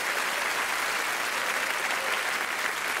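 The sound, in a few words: audience applause at a magic show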